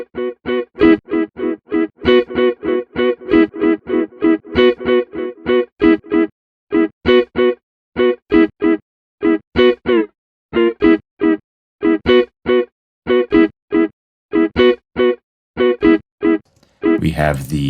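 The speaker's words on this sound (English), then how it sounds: "We also have our Space Echo, which is based off of the Roland RE201. This is a stereo effect by default." A voice run through a Space Echo stereo delay effect modeled on the Roland RE201 tape echo, each spoken phrase trailed by repeating echoes that fade in rhythmic steps, loud and close.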